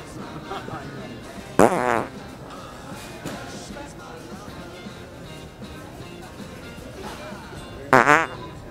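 Two brief rasping farts several seconds apart, close and prominent, with low background noise and murmuring voices in between.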